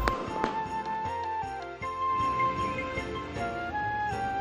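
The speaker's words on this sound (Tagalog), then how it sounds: "mabubusog naman ang iyong mga mata ng mga nagagandahang fireworks display" Christmas fireworks display at a holiday park, with a rapid series of sharp bangs and crackles followed by a steady crackling barrage and whistling tones, loud and fairly close.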